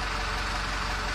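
A vehicle engine idles steadily while warming up before a long road trip from Saigon to Nha Trang, a constant close, even rumble with no change in pitch.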